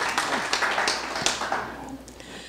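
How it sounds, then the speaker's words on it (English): An audience claps to welcome a group dressed in Hawaiian shirts, a brief burst of applause that peaks early and tapers off; no voices are heard. "So give them applause that they're here"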